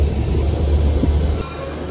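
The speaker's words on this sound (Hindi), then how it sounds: "अपनी ट्रेन जेड रिवर्स ले रही" The Darjeeling Himalayan Railway toy train rumbles along near Rongtong station while reversing on a Z-reverse, a steady low rolling drone with faint clatter that eases slightly toward the end.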